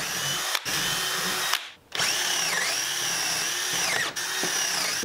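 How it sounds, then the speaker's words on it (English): Power drill with a 3/8 inch bit boring holes in wood for a campfire chair mortise, a loud, steady whine close by with a few short pauses between holes. "I'm going to drill 4 holes in each corner here, using a 3/8 inch bit."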